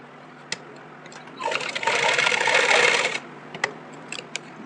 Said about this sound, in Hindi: दोनों साइड हम स्टिच करके फिक्स कर लेंगे